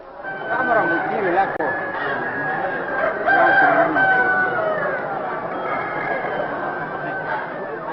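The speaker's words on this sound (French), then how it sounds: "se déroulent, depuis plusieurs heures déjà, les combats de coq" Roosters crow and cluck repeatedly at a cockfight amid a noisy crowd, with steady background chatter and shouting throughout.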